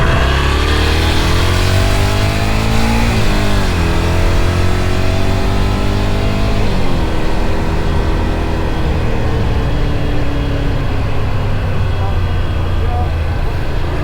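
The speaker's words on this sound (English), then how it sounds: "but let's just listen to this engine." A 2025 Ducati Scrambler motorcycle engine revs loud and close, its pitch climbing and falling in repeated swells over a steady rumbling idle for the whole stretch.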